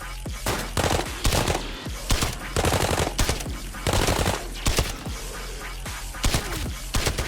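Rapid bursts of automatic gunfire in the shooter game Arena Breakout, loud repeated volleys and single shots spread across the whole stretch with brief gaps between, some close and punchy, others thinner and farther off.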